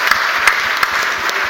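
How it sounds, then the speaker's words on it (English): Audience at a debate event applauding both sides, a steady dense wash of many hands clapping with a few sharper claps standing out, close and fairly loud with no talking. "A huge round of applause for both the sides."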